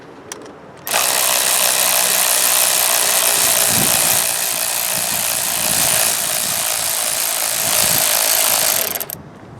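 A ratchet wrench loosens a cylinder head bolt on a Briggs & Stratton V-twin lawn tractor engine, giving a loud, close, continuous rapid clicking for about eight seconds before stopping abruptly.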